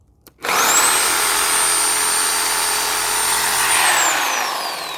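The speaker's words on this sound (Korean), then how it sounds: "이 컷소가 가장 무난한 것 같더라고요" A cut saw bites into the thick roots of a golden pine being dug up, a loud, steady high-pitched whine that starts abruptly after a brief pause, holds for several seconds, then begins to wind down near the end.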